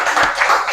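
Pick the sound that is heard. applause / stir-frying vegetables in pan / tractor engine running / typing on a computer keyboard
applause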